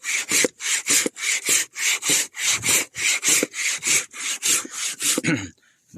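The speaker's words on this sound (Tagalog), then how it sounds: "Malaki itong lagari ko. Mahaba." A large, long hand saw cuts through thick firewood outdoors, giving a steady series of about a dozen loud, close rasping strokes in an even back-and-forth rhythm, ending with a short pause and no talking.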